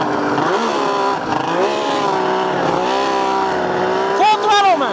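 A 160 HP race tractor engine runs at full throttle with a loud, sustained, close roar whose pitch wavers and climbs, and a brief higher squeal comes near the end.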